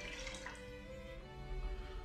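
Water from freshly churned butter is poured off into another container, a soft steady trickle and splash that stays faint and continuous, with no talking.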